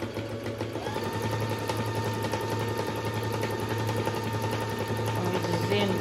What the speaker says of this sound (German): die Nähmaschine ist richtig schnell und gut